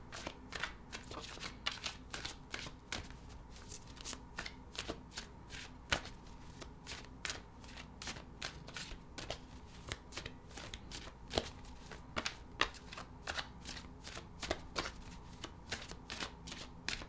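Tarot cards are shuffled continuously at close range, a steady run of soft riffling flutters and crisp snaps repeating quickly without a break, faint overall with no talking over it.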